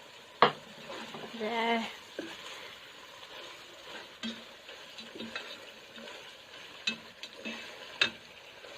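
Mushrooms are stirred into bihon noodles and ground beef in a pan: a soft sizzle with sparse utensil scrapes and light clinks, fairly quiet and close. One short spoken word comes near the start.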